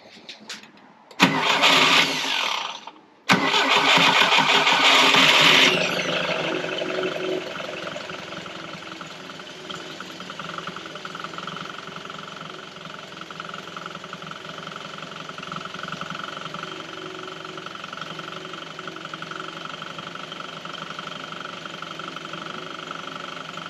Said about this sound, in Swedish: Nu kan jag testa och sätta igång motorn här.